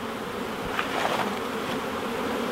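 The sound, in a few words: honey bees buzzing around a hive during nuc installation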